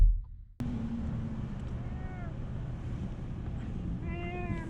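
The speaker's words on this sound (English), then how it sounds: "I've never heard him meow like this before." A pet cat in respiratory distress meows repeatedly in drawn-out, wavering cries indoors, a few close calls over a steady background hum, no talking.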